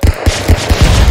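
Rapid bursts of gunfire from the stick-figure brawler game Stick Fight, several sharp punchy shots in quick succession, loud and close with no talking.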